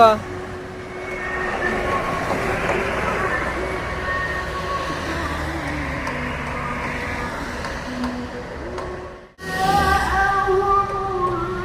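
A large passenger bus passes on a road in Muara Bungo during a homecoming convoy, its engine swelling and fading over about nine seconds before a brief cut and another vehicle's rumble, with voices nearby.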